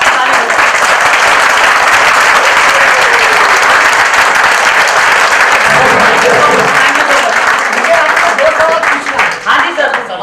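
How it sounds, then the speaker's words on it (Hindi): Loud, sustained applause from a training-session audience fills the whole stretch, dense steady clapping with a slight thinning near the end. "जोरदार ताली होनी चाहिए, ताली होनी चाहिए फ्रेंड्स, एकदम जबरदस्त"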